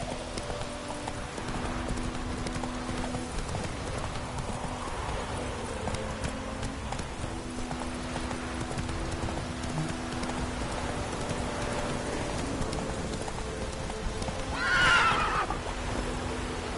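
Geralt's horse in The Witcher 3 video game: steady clip-clop of hooves throughout, with a loud whinny near the end, over light rain-like background ambience.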